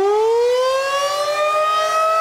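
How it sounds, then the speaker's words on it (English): Tornado warning siren, a civil defense outdoor siren, sounding a steady loud rising wail with strong harmonic tones, continuous and alone with no talk. "That eerie sound of a tornado siren may be a thing of the past in some localities"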